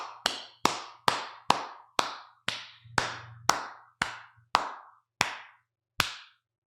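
Slow, isolated hand claps, about a dozen sharp single claps spaced roughly half a second apart, each ringing briefly in a reverberant room, with no voices.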